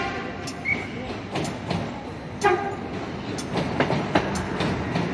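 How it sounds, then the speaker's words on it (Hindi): A train passes at a station in the Chinatown district of Buenos Aires, Argentina, with a steady rumble and repeated clicking of wheels over rail joints, mixed with busy ambient noise. "ये अर्जेंटाइन की ट्रेन."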